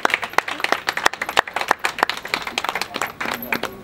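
A crowd at a certificate ceremony for newly trained beauticians and hairdressers claps for the small team, an uneven patter of many hands that runs on steadily for several seconds.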